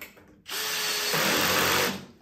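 Cordless drill driving screws while a corner desk is assembled, one continuous whirring burst of about two seconds that starts abruptly and stops, loud and close.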